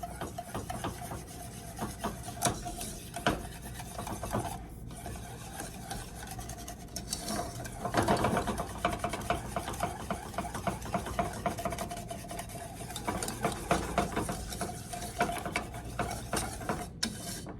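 An electric whisk beats icing for an apple cake, a steady whirring drone with scraping, rubbing rattles against the bowl, continuous and close throughout.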